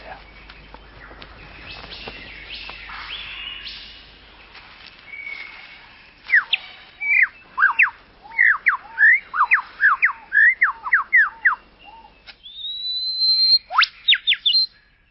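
A superb lyrebird of Southern Australia sings in forest, with loud, close, rapid sweeping whistles and chirps in repeated bursts, mimicking varied calls, after a stretch of softer mixed sounds.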